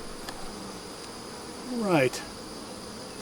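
Honey bees buzz around hive frames during a dearth, a close steady insect hum with one louder bee swooping past; a person speaks briefly.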